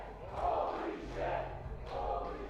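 A video game wrestling arena crowd roars and cheers in three swelling waves. The sound is moderately distant, with the crowd noise rising and falling across the moment.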